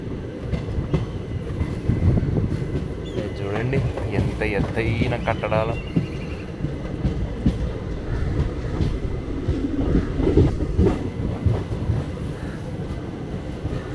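Train on the Gooty to Bangalore route rumbles along the rails, heard from inside a rear compartment as a steady loud roar with rattling clatter, while someone talks over it for much of the ride.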